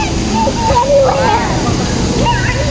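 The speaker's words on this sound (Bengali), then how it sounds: "পানির ছিটা।" Water spray from the Merlion fountain in Singapore rushes in a steady, loud hiss and splash, with people talking over it.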